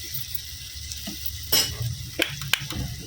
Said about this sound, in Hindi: तो इस तरह से हमने बाकी बोटियों को भी कर लेना तेज़ आंच पर।